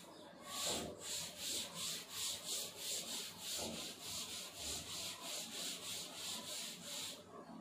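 Writing is rubbed off a classroom board during a Class 10 physics lesson, heard as a quiet series of steady back-and-forth scrubbing strokes. The strokes are close and even in rhythm, with no talking over them.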